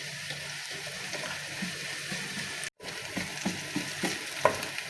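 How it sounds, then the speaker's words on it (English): Onions sauté in a pan with a continuous close sizzle and crackle. Scraping stir noises come through, and the sound cuts out briefly partway through before resuming. "Now guys, still we making saute our onion"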